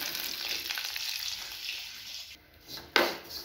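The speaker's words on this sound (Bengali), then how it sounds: "আর তার জন্য একটু কাজু ভেজে নিচ্ছি।" Cashews frying in a pan, probably in ghee, give a steady close sizzle that dips briefly near the end before a sharp scrape or clatter.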